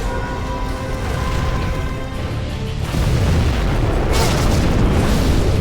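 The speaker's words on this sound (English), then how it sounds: "We have launched our nuclear missile." A nuclear missile detonation in the strategy game Command and Conquer Generals Zero Hour, a sustained, loud, rumbling roar that swells further halfway through and keeps churning without a break.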